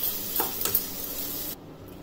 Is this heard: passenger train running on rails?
no